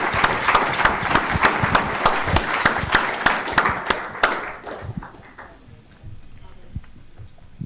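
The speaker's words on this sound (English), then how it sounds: "Let's give them a nice round of applause as they gather here in front." A meeting room audience at a county board of supervisors' session claps for library staff, a few sharp, distinct claps standing out near the mic before the applause thins and dies away into quiet room noise and shuffling.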